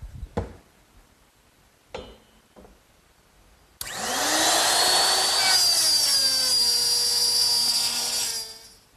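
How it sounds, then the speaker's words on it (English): A router guided by a jig cuts the female dovetail slot in wood: a few brief knocks and clicks, then a loud high whining motor that runs steadily while cutting and winds down at the end. "the instructions for my jig tell me to use the same router setup, but this slot to make the female part of the dovetail"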